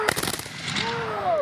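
Civil War reenactors fire a musket volley at a living history event, a ragged burst of close, overlapping gunshots in quick succession that trails off into echo and ambient noise, with faint voices around.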